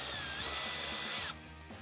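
An impact or power tool spins off bolts from the nacelle of a Harley-Davidson Road King Special, a steady loud mechanical whir with ratcheting clatter for over a second, then dropping to a quieter rattling tail.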